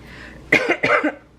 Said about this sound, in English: I'm not allowed to cough today